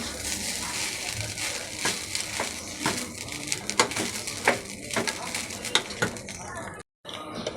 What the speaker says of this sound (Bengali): ভালো করে নাড়ছি